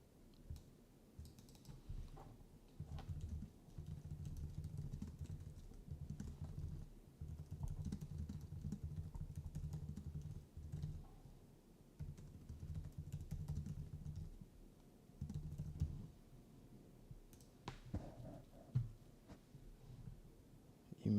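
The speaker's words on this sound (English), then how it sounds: "I've been typing so much." Rapid clicking of typing on a computer keyboard, close and fairly quiet, coming in bursts of several seconds with short pauses between them.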